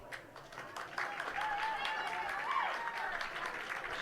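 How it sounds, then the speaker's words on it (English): Small baseball crowd at a state amateur tournament game applauding an injured player limping off, scattered, moderately distant clapping sustained under a commentator's voice. "Spooner getting a round of applause as he appears to be walking it off, limping a tad"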